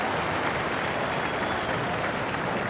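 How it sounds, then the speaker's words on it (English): A racecourse crowd at the 1991 King George VI Rank Chase applauds Desert Orchid, a steady, dense wash of distant clapping and cheering that stays even throughout. "look and listen to the crowd giving Desert Orchid an incredible round of applause for actually coming home safe and sound"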